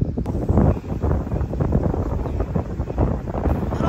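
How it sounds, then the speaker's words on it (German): Strong outdoor wind gusting across the microphone while gathering wild herbs such as sorrel, a loud buffeting roar that swells and dips without pause. "Voll windig."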